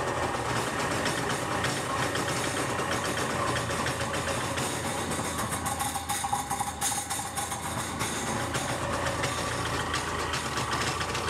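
Polaris SL 750 jet ski engine running steadily with a metallic rattle, loud and continuous throughout, with no talking.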